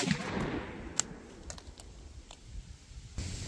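A Glock 9mm pistol fires an Underwood HERO 70gr round through denim into ballistic gel: one sharp, fairly faint crack near the one-second mark over a low background hiss, with a few softer clicks after it.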